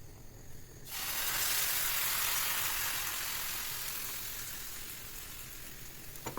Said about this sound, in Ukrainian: по пів хвилинки будемо смажити